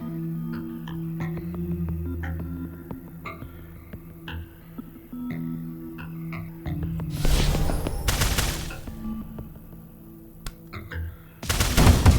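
Three-bolt burst gunfire in the tactical game Tactical Breach Wizards: a quiet stretch of low game music and soft clicks, then a loud, rough burst of shots around the middle and another sharp burst at the very end.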